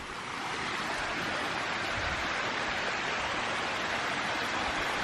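Waterfall at Giant City State Park on a rainy day, a steady, loud broadband rush of falling water that holds evenly throughout with no voices.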